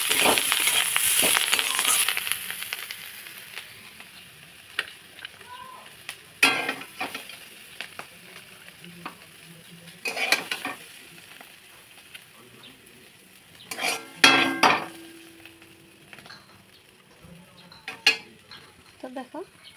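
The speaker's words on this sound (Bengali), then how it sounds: "আর একটু ভেজে নেব, তারপর রেডি আমার পুঁইকুটি দিয়ে সোয়াবিন ভাজা।" Soybean chunks with Malabar spinach stems fry in a pan, a soft steady sizzle broken by scraping stirs and clinks of a utensil against the metal, some louder bursts among quieter stretches.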